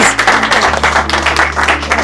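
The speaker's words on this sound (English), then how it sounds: "Clap for her." Dense audience applause at a business talk fills the space, steady clapping from a seated crowd with a low hum underneath and no clear speech on top.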